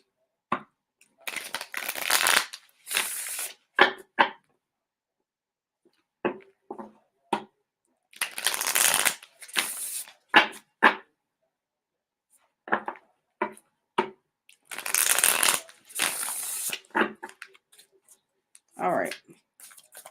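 Tarot cards being shuffled by hand in repeated riffling bursts, close and fairly loud, separated by short pauses with small taps and card handling between bursts.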